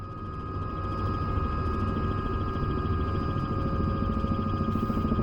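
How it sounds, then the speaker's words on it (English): A Robinson helicopter flown in Microsoft Flight Simulator in VR: a steady, loud rotor and engine drone with a constant low throb and whine, holding evenly throughout with no talk. "it's just so much fun in VR in a helicopter. The Robinson, you just throw it around"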